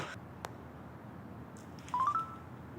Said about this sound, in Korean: 제가 준석이한테 전화해 볼게요.